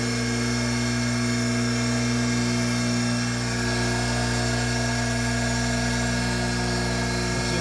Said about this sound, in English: Just as smooth as it can be. Those bearings in there are real good. Not hardly any vibration.